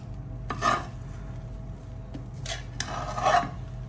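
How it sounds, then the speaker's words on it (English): A utensil scrapes boiled rice off the bottom of a cooking pot in a few short, rough strokes: one near the start, a pair midway and a longer grinding pass near the end, close and moderately loud. "So you're just scraping it from the bottom."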